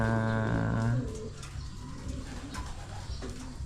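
A racing pigeon in a loft coos low and close for about a second, followed by quieter ambient noise and faint soft sounds.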